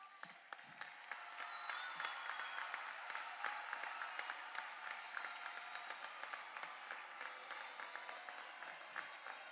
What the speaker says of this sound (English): I want you to turn and applaud your parents and families and caregivers.